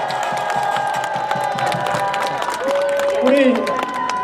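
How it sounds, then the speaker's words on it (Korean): A crowd at an outdoor presidential campaign rally in Gongju, South Korea, applauding and cheering in a dense continuous wash, with an amplified voice and shouts running over the clapping. "김문수 대통령 다시 한번 뜨거운 박수 부탁드리겠습니다."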